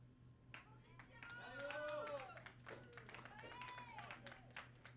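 A finish-line crowd claps and cheers for a cyclist completing the Race Across America (RAAM) 2022, with scattered hand claps throughout as voices and an announcer-style speaker talk over a steady low hum.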